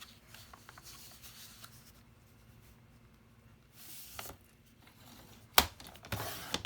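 Scissors cutting paper, with soft scraping and snipping strokes in short bursts, a sharp louder snip near the end followed by more rustling paper.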